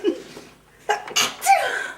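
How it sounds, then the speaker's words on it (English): A single sneeze from a person in an indoor conversation, a short inhale followed by a sharp burst and a trailing breathy release, fairly close. "Sorry, I have to sneeze."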